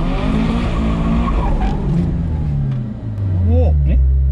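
Car tires squealing and skidding while drifting, loud engine revving with a falling screech, then renewed squeals near the end, people talking over it.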